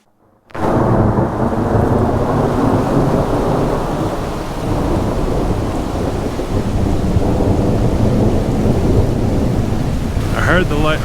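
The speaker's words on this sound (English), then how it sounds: "I saw the lightning go off right above my head" Heavy thunder rolls in right after a lightning strike overhead during a mountain storm near the Beartooth Highway, a loud sustained rumble that swells and lingers for several seconds, with rain hissing steadily underneath.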